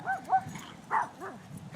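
A fake toy dog giving a few short, faint yapping barks in quick succession, with soft voices nearby.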